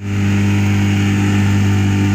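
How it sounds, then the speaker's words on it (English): A small carbureted motor runs steadily after being restarted following a fuel-line disconnect and carb clearing, a loud, constant mid-pitched engine drone with a strong low hum and no talk over it. "the motor is now running"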